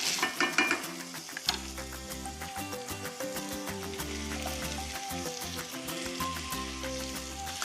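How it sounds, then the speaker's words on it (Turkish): A steady sizzle of diced potatoes frying in a hot pan over onion, carrot and tomato, with scraping stirs and clinks of a utensil against the pan. "Doğramış olduğum patatesleri de soğan, havuç ve domates karışımının üzerine atıyorum."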